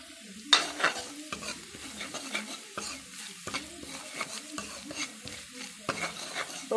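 Dry spices sizzle softly in a pan while a utensil stirs and scrapes against the metal in irregular, close strokes, with the frying hiss running underneath.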